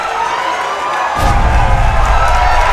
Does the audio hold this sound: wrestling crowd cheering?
yes